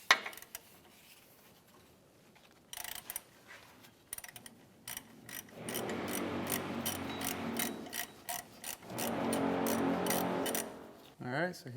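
Ratchet wrench loosening a 12 mm tensioner bolt on a 2007-2013 Acura MDX, heard up close as fast rhythmic clicking bursts that speed into long continuous ratcheting runs.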